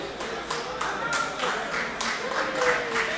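An audience claps in a steady wash of applause after the final round of a Yu-Gi-Oh regional tournament in Houston, with an announcer talking over it.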